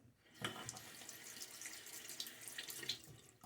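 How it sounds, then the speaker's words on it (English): Tap water runs into a shaving bowl of soap lather, a soft splashing trickle with small clinks, heard close but quiet, with no talking. "We just put a little bit more water in there."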